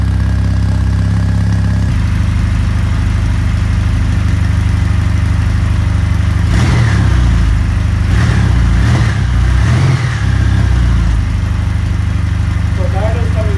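A 2019 Kawasaki W800 Cafe motorcycle idles with a steady, loud low rumble that runs throughout, while someone talks over it near the middle.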